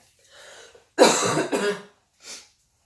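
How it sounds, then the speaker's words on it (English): A sharp, harsh cough burst, followed by a second shorter one, then a faint trailing cough; close and fairly loud, no talking. "sorry about the cough"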